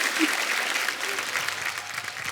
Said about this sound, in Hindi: तालियां बनती है इस बात के लिए